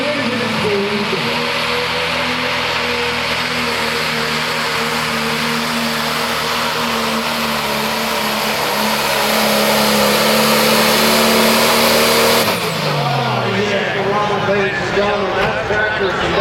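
A John Deere super stock pulling tractor runs flat out at full throttle with no governor, a loud sustained roar with a steady high drone that cuts off abruptly near the end, while an announcer talks over it.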